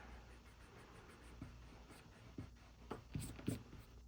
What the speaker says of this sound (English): So I'll erase the line so it doesn't show up later.